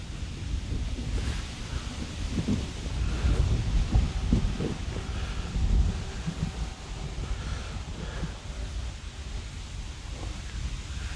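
Steady outdoor wind buffets a handheld microphone, a continuous low rumbling roar with gusts swelling and easing throughout and no clear voices.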